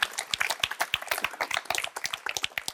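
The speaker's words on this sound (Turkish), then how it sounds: "Bir kocaman alkış" A live audience breaks into enthusiastic applause at a Turkish talk on human pleasure-seeking, a dense run of many hands clapping loudly and steadily throughout, with no voices over it.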